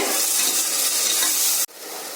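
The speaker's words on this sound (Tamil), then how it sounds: "இது இந்த பச்சை வாசனை போகிற வரைக்கும் நல்லா வதக்கணும்" Tomatoes sautéing in hot oil in a pan for tomato rice give off a loud, steady hiss of sizzling that cuts out abruptly for an instant near the end before resuming more softly.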